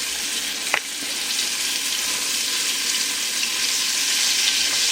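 Beef browning in olive oil in a pot for stew, a loud, dense, continuous sizzle heard close up, with one brief utensil knock near the start and no talk.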